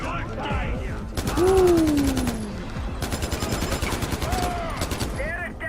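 Rapid bursts of gunfire aimed at the player in the Far Cry 4 video game, a steady run of sharp automatic shots under a person talking.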